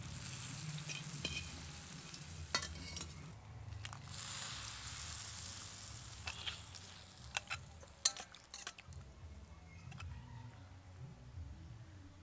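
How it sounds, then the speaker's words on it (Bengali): Lentil dumplings (bori) frying in hot oil, a steady close sizzle with scattered clinks and scrapes of a utensil against the pan. "একদম লাল লাল করে ভেজে নিয়েছি, এবার তুলে নেব।"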